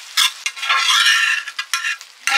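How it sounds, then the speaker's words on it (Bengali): Spice-coated bamboo-leaf fish fry on a hot tawa in choppy bursts of loud, close sizzling, broken by brief quieter gaps as the pieces are stirred and lifted out. "মনে হচ্ছে যেন মশলা মাখানো ভাজা ভাজা হয়েছে।"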